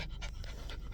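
A dog pants close up while lying on a person's lap: a brief run of quick, breathy rhythmic pants.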